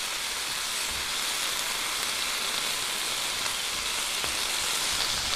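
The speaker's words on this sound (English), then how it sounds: "You want it to be good and brown before we add any of the rest of our ingredients" Meat browning in a hot pan for a stir fry, a steady, even sizzle that holds loud and constant without pause, with no talking over it.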